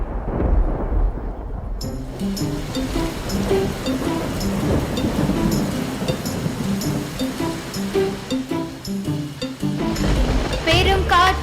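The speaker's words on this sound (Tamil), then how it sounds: "பெரும் காற்றும் வந்தது இடியும் மழையும் வந்தது" Thunder-and-rain sound effect played at a school annual day play, a loud rumbling, crashing storm texture that runs continuously for several seconds, with music or singing mixed in.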